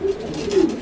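Pigeon cooing close by in a breeding loft, two short low coos separated by a brief pause and heard clearly with no talking over them.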